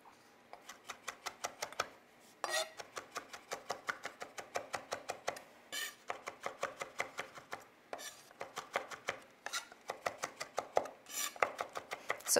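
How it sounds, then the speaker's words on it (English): Rapid, rhythmic knife chops on a cutting board as fresh herbs are cut, crisp taps in quick bursts with short pauses between runs. "So some of it I'm chopping finely and some of it I'm gonna leave in bigger pieces"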